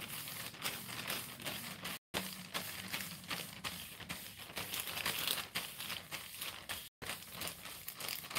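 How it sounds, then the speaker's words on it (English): A plastic bag crinkles and rustles steadily and close by, with dense crackling texture that continues nearly unbroken apart from two very short gaps. "We got a plastic bag."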